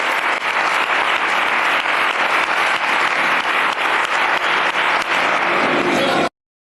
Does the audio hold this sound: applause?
yes